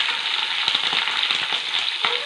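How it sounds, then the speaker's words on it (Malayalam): Mustard seeds and fennel spluttering in hot oil, a dense close sizzle with scattered sharp pops and crackles running continuously. "കടുകൊക്കെ നന്നായിട്ട് പൊട്ടുന്നുണ്ട്"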